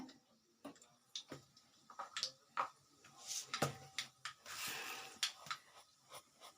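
Mustard seeds splutter in hot oil in a pan while palak aloo subji is being cooked. Scattered sharp ticks and pops come irregularly, fairly close but quiet, and grow denser partway through.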